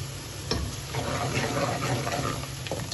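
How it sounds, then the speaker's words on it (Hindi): Sliced onions fry in a pan with green cardamom, black peppercorns, cinnamon pieces and star anise for egg and potato biryani, giving a steady close sizzle with occasional stirring scrapes and no talk. "तो बस प्याज को हमने इतनी देर फ्राई करना है कि हल्की गोल्डन सी हो जाए।"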